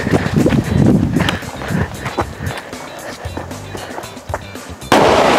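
Firecrackers for Diwali going off outdoors as a string of sharp, irregular cracks and pops over windy background noise, with a burst of broadband hiss near the end.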